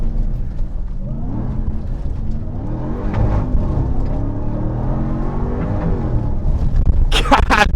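Ram TRX pickup engine revving and climbing through gear shifts, a loud, close roar with rising and falling pitch sweeps, followed by a sharp burst near the end.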